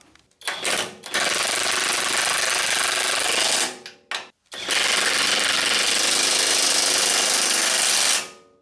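A pneumatic impact tool snugs bolts on the steering of a 1984 Dodge D150 pickup, firing in loud rattling bursts: a short burst, a longer run, a brief stutter, then another sustained hammering run, all close by.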